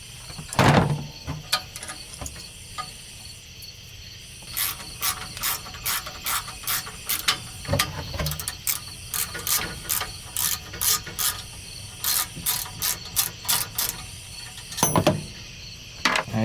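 A hand ratchet removes bolts from a plate on a John Deere Gator 4x2, with quick bursts of sharp clicking strokes in an irregular rhythm and louder clunks between them, close and alone.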